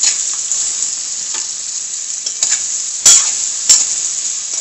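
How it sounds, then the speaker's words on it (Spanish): Finely chopped ingredients sauté in a pan for yellow rice with sausages, giving a loud steady sizzle with several sharp spatula scrapes and knocks. "Esto sofreímos un poco."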